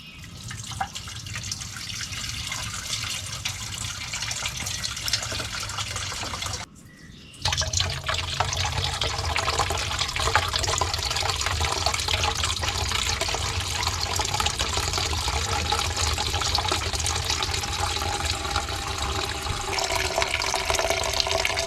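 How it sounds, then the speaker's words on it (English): Diesel is poured into a Honda ATV engine left rotting outside for years to flush it out, making a steady trickling, splashing liquid sound close by, with a short break partway through before the pour continues. No voices. "I'm going to go ahead and flush this engine out with some diesel"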